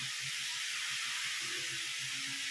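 Beetroot sautéing in a pan gives a steady, soft sizzling hiss, with faint low stirring knocks underneath and no voices.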